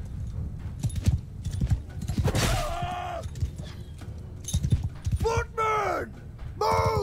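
Horses in the Bannerlord battle game, rapid hoofbeats drumming amid battle clatter, with shouted voices and several whinnying cries breaking through.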